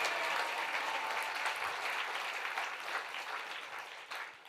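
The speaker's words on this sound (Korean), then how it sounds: "박수 한번 쏴 주님께" A Korean church congregation at a Sunday morning service bursts into applause for the Lord, a thick, even clapping from many people that stays strong and then begins to thin slightly toward the end.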